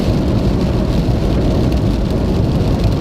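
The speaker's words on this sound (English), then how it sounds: "we started seeing some serious rain, lightning, and thunder" Heavy rain in a thunderstorm on a road in the Ouachita Mountains, a loud, dense, steady roar of downpour with a low rumbling undertone throughout and no voices.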